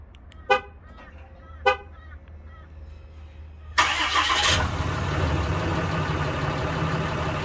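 A car with a check engine fault code P2609 and a remote starter cranks and catches into a loud, steady idle after two short horn toots, heard close with no talk.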